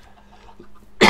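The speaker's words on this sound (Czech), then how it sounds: "Já se omlouvám, že tady takhle do toho kašlu" A single loud, sharp cough bursts out at the very end, following a quiet stretch of faint background noise while someone is recording a Minecraft play session.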